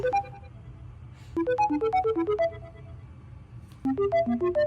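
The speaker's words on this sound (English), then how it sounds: "What ringtone is that?" A phone ringtone plays a bright, tinkling electronic melody in two repeated phrases separated by a brief gap, loud and clear over faint background noise with no speech.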